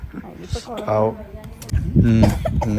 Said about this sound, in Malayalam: ചുമ തുടങ്ങി